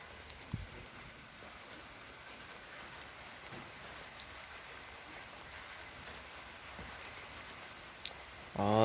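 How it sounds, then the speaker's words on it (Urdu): Steady rain falls in Murree in the early morning, a soft continuous hiss with a few faint drips, before a brief louder sound at the very end. "آخر کار اللہ نے کیا تو بارش سٹارٹ ہو چکی ہے"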